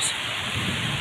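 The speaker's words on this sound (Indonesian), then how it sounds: "Soalnya lagi turun hujan lebat" Heavy rain pours steadily on a shelter hut in the middle of a rice paddy during a thunderstorm, a dense, loud, unbroken hiss that fills the whole moment with no voices.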